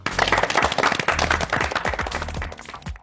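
A game show studio audience claps for the contestants in a loud, close burst of dense applause that gradually thins out and ends.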